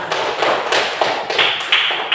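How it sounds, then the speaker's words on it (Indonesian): Several sharp, evenly spaced claps from a small group in a primary school coding class, crisp and close, about one every quarter second, with no talking. "tepuk tangan dulu untuk kita semua"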